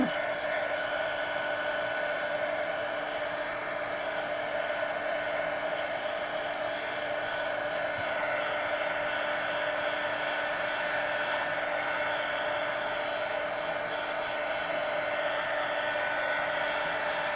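A hair dryer runs steadily on a mixed media collage poster made with napkins, a constant close, loud whirring hum that holds unbroken throughout with no talking.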